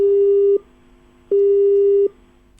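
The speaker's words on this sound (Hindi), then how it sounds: "लगता है उनके साथ हमारा संपर्क स्थापित नहीं हो पा रहा है" A telephone busy signal: two steady electronic tones with a silent gap between them, clear and loud with nothing else audible.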